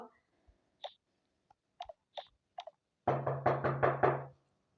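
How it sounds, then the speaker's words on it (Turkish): Loud, rapid knocking on a door in a Toca Boca game, a burst of about six heavy raps after a few scattered softer taps. "Bu nasıl bir kapı çalmak?"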